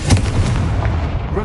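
A Confringo fire spell blasts in Hogwarts Legacy, giving a loud, booming burst with a deep rumbling body that fades over about a second.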